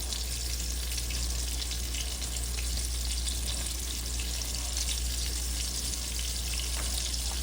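Homemade hamburger patties fry slowly in a skillet with a steady, even sizzle and crackle that runs unbroken and fairly quiet throughout, with no voices.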